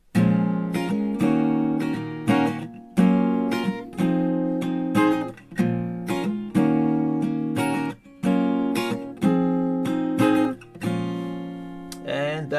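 Acoustic guitar chords of "No More Regrets" by almost monday, strummed at a brisker pace, a steady run of rhythmic strokes with repeated chord changes, close and clear.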